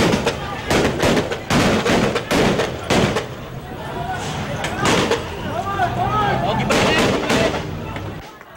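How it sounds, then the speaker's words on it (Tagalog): Successive gunshots crack out during a tense demolition clash at a housing compound, with SWAT officers present. Sharp bangs repeat irregularly through crowd noise and shouting voices, some shots close and loud, others further off. "umalingaw na rin ang sunod-sunod na putok ng baril."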